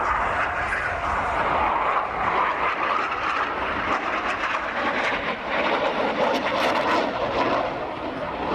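Swiss Patrouille Suisse jets flying a display formation at an air show, a loud continuous broadband jet roar that swells and fades as the aircraft pass, filling the whole clip.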